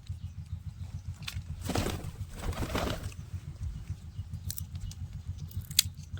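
Newly brought pigeons, white and red ones, coo softly in a low, repeating pulse nearby, with a brief burst of wing flapping or rustling partway through and a few light clicks later.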